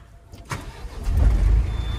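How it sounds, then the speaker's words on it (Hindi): A Tata Ultra T.18 truck engine is started with the self-starter: a brief crank, then the engine catches and settles into a loud, steady low rumble. "जरा से सेल्फ में गाड़ी जो है बिल्कुल स्टार्ट हो गई है।"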